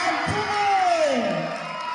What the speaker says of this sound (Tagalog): bigyan nga natin ng malakas na palakpak at hiyawan ang Kapnot Vlog TV